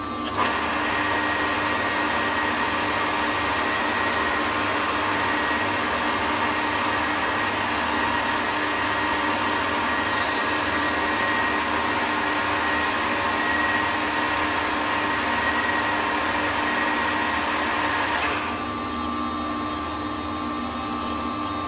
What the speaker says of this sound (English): The reason I'm machining this down is to get some head clearance